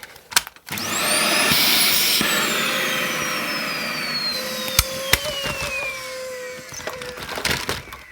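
A vacuum cleaner roars loud and close as it sucks up a large ball of debris and starts to clog. The motor pitch sweeps down over several seconds, broken by sharp knocks and rattles.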